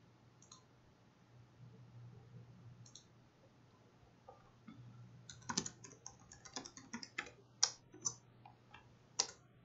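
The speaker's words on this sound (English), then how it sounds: "I'm just gonna change his password here." A password is typed on a computer keyboard, a few sparse key clicks at first, then a quicker burst of close, crisp keystrokes over faint background hum.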